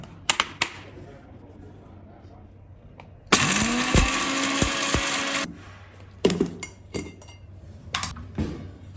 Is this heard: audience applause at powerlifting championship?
no